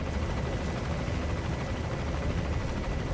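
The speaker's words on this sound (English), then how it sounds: "Now, I would try to shoot down this helicopter." A helicopter in Metal Gear Solid V roars in a steady, loud rotor-and-engine wash that fills the whole stretch without letup, with no talking.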